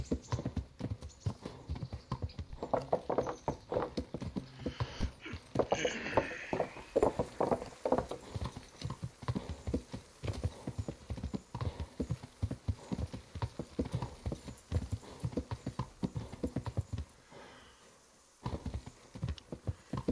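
Steady clip-clop of horse hooves while riding in the medieval video game Kingdom Come: Deliverance, a continuous rhythmic trot that carries on for most of the stretch before briefly dropping out near the end.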